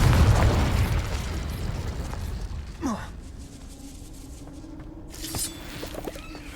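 A Confringo fire-blast spell in Hogwarts Legacy, cast in the Room of Requirement, bursts loud and close at the start, then rumbles away into quieter in-game ambience with a few small later sounds.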